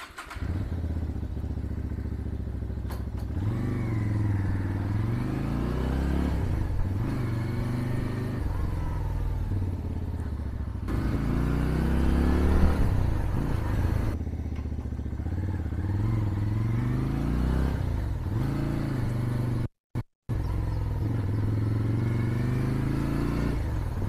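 A second-hand SM Sport V16 cruiser-style motorcycle is being ridden: a steady, loud engine drone that rises and falls with throttle changes, with wind and road rumble running throughout.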